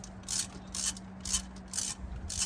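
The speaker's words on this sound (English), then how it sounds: "now I'm just using a regular extension in the 10 millimeter to get that out of there" A ratchet with a 10 mm socket on an extension works loose a thermostat bolt on a 2021 Chevy Colorado V6, giving five evenly spaced bursts of crisp clicking close by over a steady low hum, with no talking.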